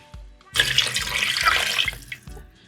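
Water pours steadily from a tap into a cooking pot for beef bone soup, a close and moderately loud splashing stream lasting about two seconds with no talking.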